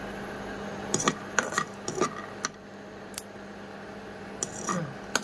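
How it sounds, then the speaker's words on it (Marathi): Peanuts dry-roasting in a kadhai while cooking kande pohe: scattered light clinks and scraping rattles of nuts being stirred against the metal pan, irregular and close, with a faint background hum. "हे बघा, असे शेंगदाणे भाजून घ्यायचे."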